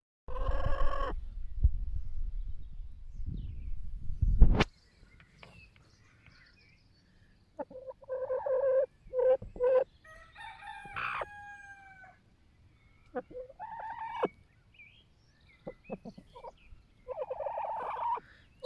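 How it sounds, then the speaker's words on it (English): Farm chickens cluck and call in short scattered bursts at moderate distance, with quiet gaps between them, after a rough rumbling noise at the start. "those are our chickens"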